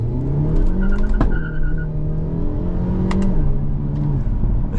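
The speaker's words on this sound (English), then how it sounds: "Now, as far as overall acceleration, we'll leave it in manual mode" A 2025 Hyundai Elantra N sedan with a dual-clutch transmission in manual mode revs up steadily, its engine pitch rising and shifting through gears, loud and close, with tire noise underneath.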